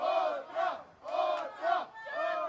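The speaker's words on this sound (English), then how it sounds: "crowd asking for one more." A wrestling crowd at a House Of Lucha match chants in rhythmic bursts, five loud rising and falling group shouts in steady cadence calling for one more.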